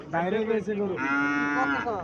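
A calf moos loudly and close by at a cattle market in Chauyara, Cumilla, giving two drawn-out, strongly voiced calls in quick succession with no talk over them.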